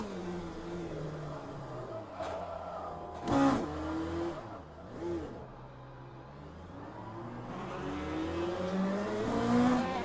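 LMP2 prototype race car engine in the Le Mans Ultimate sim, a steady droning note that shifts in pitch as the revs rise and fall, with a couple of brief louder bursts and a climb toward the end.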